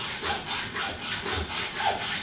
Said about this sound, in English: get out your trusty hacksaw. And cut the bolt off.